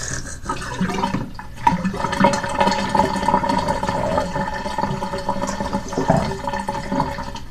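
Water sprays steadily from a sink sprayer during an ayurvedic-style hair wash, a continuous hissing rush that fills the whole stretch with faint splashing changes.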